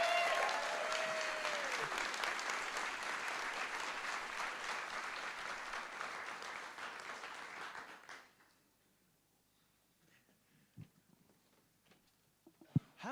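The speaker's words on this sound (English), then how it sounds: "please give a thunderous applause for your next speaker, Mr. Jason Hurdich." An audience at a talks event claps loudly for about eight seconds before the applause stops abruptly, leaving a quiet room with a few faint thumps and a brief noise at the end.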